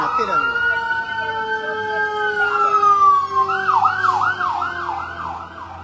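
An emergency vehicle siren passes outside, a long rising wail that turns into a rapid yelping warble, loud and fairly near, with a voice speaking underneath.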